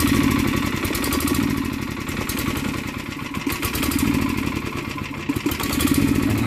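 A hydrogen-fuelled engine idles with a rapid, clattering pulse, its level swelling and dipping as it surges at low pressure, loud and close with no talk over it.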